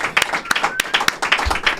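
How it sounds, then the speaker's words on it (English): Small audience applause during a podcast recording, a few distinct hand claps with sparse crowd clapping between them and light voices underneath. "So just please join me in giving Anderson a round of applause for seeing that, man."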